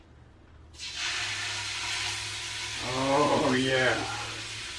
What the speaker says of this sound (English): You're not hearing a sizzle like that, you're doing it wrong.